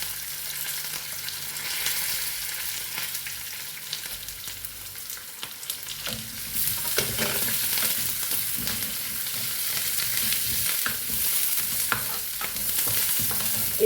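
Ginger, garlic and curry leaves sizzle steadily in hot oil in a pan for a Kerala-style prawn curry, a continuous close frying hiss that grows louder and brighter partway through, with faint stirring scrapes and no talk.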